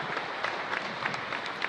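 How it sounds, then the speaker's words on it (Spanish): Congregation at Mass in a parish church breaks into brisk applause, a short dense burst of many hands clapping with a few sharper claps standing out. "Fuerte aplauso entonces para el Señor."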